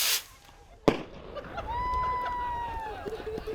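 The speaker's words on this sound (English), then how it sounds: "There were people lighting off fireworks and cheering us on" Fireworks set off by people along the banks of the St. Marys River: a sharp close bang, then a rising whistle and crackling pops, with faint crowd babble and cheering underneath.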